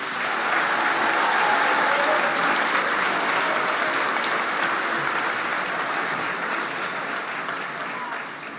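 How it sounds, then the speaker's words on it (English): Sustained applause for graduates fills a high school graduation ceremony, a broad, even roar of clapping from a large crowd that slowly tapers toward the end. "can we get another round of applause for our graduates?"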